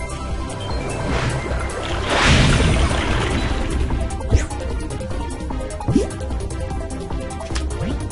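Wave Splash water attack effect in the video game Pokemon TCG Online, a rushing splash that swells and then settles into dripping, trickling water with a couple of small sharp clicks.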